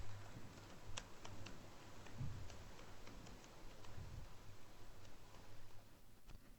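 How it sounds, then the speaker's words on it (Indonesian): Light typing on a computer keyboard while entering data into an Excel spreadsheet: faint, sparse individual key clicks spaced irregularly over quiet room hiss. "kita mulai mengetik namanya, mulai dari mata kuliah"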